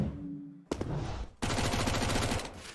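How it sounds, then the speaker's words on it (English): Gunfire from a Counter-Strike match on the Overpass map comes as rapid bursts of shots: a short burst, a brief pause, then a longer sustained volley, fairly close and sharp. "Nice shots from Ariel."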